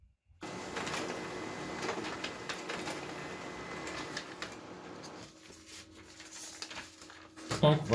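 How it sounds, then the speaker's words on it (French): An office printer feeding and printing a barcode label sheet: a continuous mechanical whir and rattle with faint rhythmic pulses for several seconds, then quieter motor hum and a short clunk at the end. "Je vais juste introduire la feuille dans l'imprimante."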